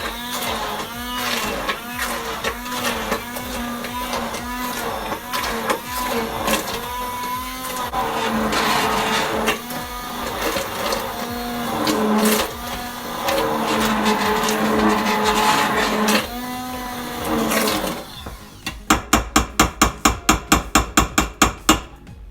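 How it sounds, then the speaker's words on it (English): An immersion blender whirs through broccoli soup with a wavering motor hum that changes pitch under load, ending in a burst of rapid rhythmic pulses. "let's immersion blend and see if it needs any more liquid"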